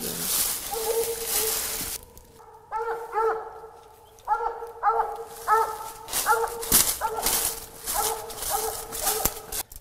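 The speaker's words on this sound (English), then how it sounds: "I got Lacey treed yonder." A hunting dog at a squirrel dog competition barks and yips repeatedly at a treed squirrel, loud, close, sharp bursts in an irregular rhythm with brief pauses between volleys.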